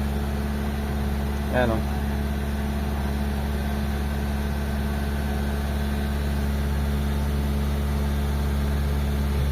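A Honda FD Dimension engine idles high at about 2000 RPM on a cold start, giving a steady, even mid-low hum throughout, with a brief voice heard near the start.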